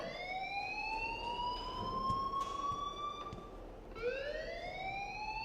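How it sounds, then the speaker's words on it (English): A siren-like alarm wails in the video game Life is Strange, with two long rising-and-falling sweeps, the second starting just before the end, sounding fairly faint against a steady background. "please turn off that alarm since that's your job"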